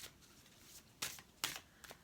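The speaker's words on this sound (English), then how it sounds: "I got to get a good shuffle on these because I can see the backs" A deck of Saints and Mystics reading cards being shuffled in three quick riffling bursts, crisp papery flutters that stand alone against a quiet room.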